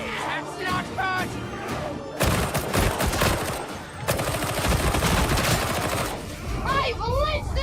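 Gunfire in a Warhammer 40k video game, with dense, rapid bursts of shots crackling continuously through most of the stretch, mixed with loud explosive impacts, close and heavy, while a voice shouts in the middle of it.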